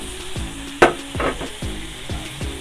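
Cumin, coarsely ground dry coriander and fenugreek dry-roasting in a pan for masoor daal: a steady close sizzle broken by a sharp scrape and several soft rhythmic stirring strokes.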